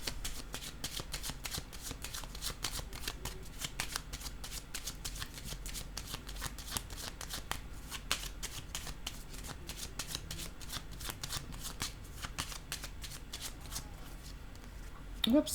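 Tarot cards handled and laid down, a dense run of crisp card snaps and riffles going on steadily throughout, close-up and soft, with a speaking voice faintly underneath.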